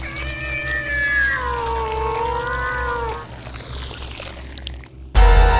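A cat meows as a sound effect in an audio drama, one long drawn-out wavering meow over a low steady hum, followed by a short pause and an abrupt loud noise at the end.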